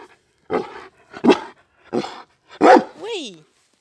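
Dog Harper gives a few short barks on command during a training session, spaced about a second apart, with a person's voice speaking in between and a final drawn-out whine-like vocalization.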